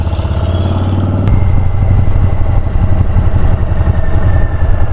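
A motorcycle rides along the Foothills Parkway in Tennessee, its engine a loud, close, steady drone with a rhythmic pulse and no talk over it.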